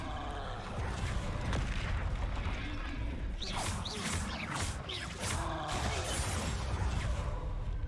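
Bombarda explosion spell blasts in Hogwarts Legacy during a troll fight, a loud, dense, continuous roar of rumbling impacts and crashing debris with sharper bursts in the second half, no clear pauses.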